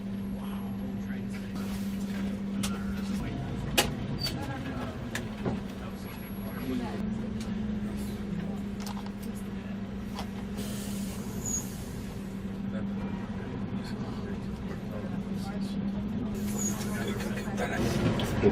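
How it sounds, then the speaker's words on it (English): Heavy night traffic on a Madrid street in 2005: a steady rumble of buses, trucks and cars passing close by, with a hiss of air brakes and occasional louder vehicle surges, with voices talking over it. "It's a lot of traffic, eh?"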